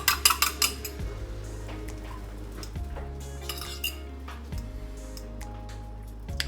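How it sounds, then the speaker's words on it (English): Beaten egg poured into a pan on low heat for an omelette, opening with a quick run of sharp metallic clinks, then soft clanks and scrapes of pan and utensil dotted through a quiet kitchen. "I'm gonna add in all of my egg now"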